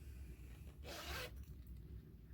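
Zipper on a fabric pencil case pouch with a broken zip, one short quiet rasping pull heard up close against a faint room hum.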